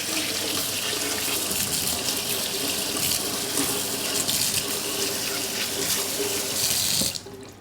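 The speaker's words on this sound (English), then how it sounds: "I'm going to give these a very quick rinse under the tap." Carrots rinsed under a kitchen tap, a loud steady rush of running water splashing into a sink for about seven seconds before it is abruptly shut off.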